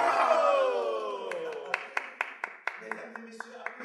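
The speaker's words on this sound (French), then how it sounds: "Mesdames et messieurs, applaudissez Monsieur Franck." A game-show studio audience breaks into applause, sparse sharp individual claps growing through the moment while a host's voice talks over the start.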